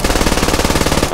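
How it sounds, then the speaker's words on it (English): An MG3 machine gun fires in the video game Squad, a loud, close, rapid burst of evenly spaced shots hammering out in a tight, unbroken rhythm for about a second. "This is MG3, and that right there is an enemy squad"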